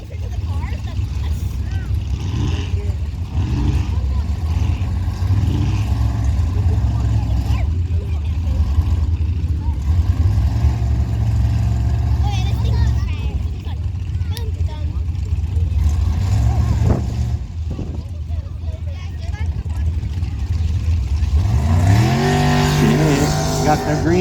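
A car revs hard and pulls away through a mud pit at a timed mud-racing event, its loud low engine droning steadily and rising to a higher howl near the end, with a commentator talking over it.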